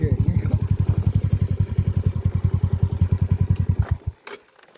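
Motorcycle engine close by, chugging rapidly and evenly for about four seconds, then cutting off abruptly into quiet.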